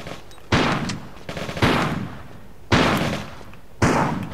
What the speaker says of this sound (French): le fusil à pompe est bien de près